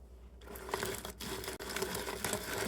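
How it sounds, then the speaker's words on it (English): An old-fashioned hand-cranked grinder grinds walnuts with a continuous, close, crunchy rasping that starts abruptly and carries on steadily, with one brief dropout. "So I have one of these cute little old-fashioned grinders."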